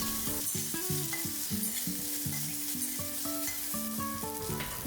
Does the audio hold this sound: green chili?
yes